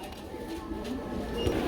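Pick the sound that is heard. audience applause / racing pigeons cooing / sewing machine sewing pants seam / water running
racing pigeons cooing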